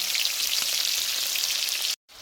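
A rohu fish head fries in hot oil with a steady, bright crackling sizzle that holds close and even, then cuts off abruptly near the end.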